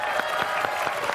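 A short burst of audience clapping at a casual review show, a handful of distinct claps in quick rhythm over a steady room background.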